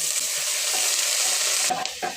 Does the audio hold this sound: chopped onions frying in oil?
yes